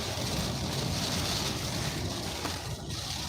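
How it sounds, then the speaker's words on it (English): A strong wind roars steadily into the microphone, a dense, loud rumbling rush lasting the whole moment with no other sound standing out. "That's almost Nebraska class wind. Not quite, but pretty close."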